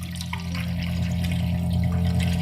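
Hot water poured steadily into a baking pan around ramekins of cheese soufflé, a continuous close splashing trickle lasting a couple of seconds with no talk.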